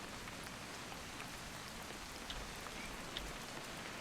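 Steady rain falls in the video game What Remains of Edith Finch, a dense even hiss of drops on surfaces with a few slightly sharper drips standing out.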